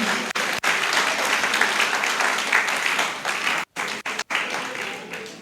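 A book launch audience claps in a dense, steady round of applause that fills the room, broken by a few short gaps near the end.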